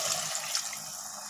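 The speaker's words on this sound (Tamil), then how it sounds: "இப்போது நம்ம குழம்புக்கு தேவையான அளவு தண்ணி சேர்த்துக்கலாம்." Water splashes steadily into a pot of simmering curry in a home kitchen, a short, soft, continuous pour close by.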